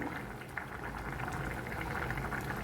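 Yellow pumpkin pieces boil in a covered pot, a steady dense bubbling and rumbling of simmering water throughout, close and even with no talk.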